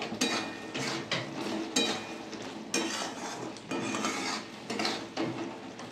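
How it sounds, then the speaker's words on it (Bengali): A spoon scrapes and stirs hog plum pickle with roasted ground spice in a pan, giving about six rhythmic strokes with a light sizzle underneath and no voices. "ভালো করে নেড়ে দেবো।"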